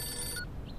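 A telephone ringback tone sounds briefly and faintly while a call is placed to a friend, a single short electronic ring burst that cuts off partway.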